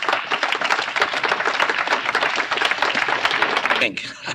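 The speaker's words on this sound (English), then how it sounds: "I started clapping until I realized what I was doing" An audience at a Tri-State convention night owl meeting in 1982 breaks into dense, steady applause for about four seconds before it dies away, with talk audible beneath the clapping.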